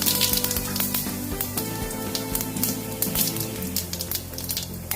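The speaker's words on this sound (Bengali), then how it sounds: "জিরে ফোড়ন দিয়ে দিলাম।" Cumin seeds dropped into hot mustard oil in a heated pan give a steady, close crackling sizzle with dense popping spatter throughout, carrying on alone without any talk.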